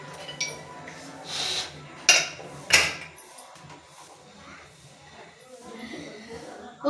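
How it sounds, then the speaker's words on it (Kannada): A metal pressure cooker lid is shut and the cooker is set on a kitchen stove, making two sharp clanks close together amid soft handling noises and faint background voices. "ಇವಾಗ ನಾವು ಇದನ್ನು ಕುಕ್ಕರ್ ಬಾಯನ್ನು ಮುಚ್ಚಿಬಿಡೋಣ. ಓಕೆ, ಇಲ್ಲಿ ಒಲೆನ ಒಚ್ಚಿಬಿಟ್ಟು ಕುಕ್ಕರ್ನ ಆ್ಯಡ್ ಮಾಡೋಣ ಇದನ್ನು."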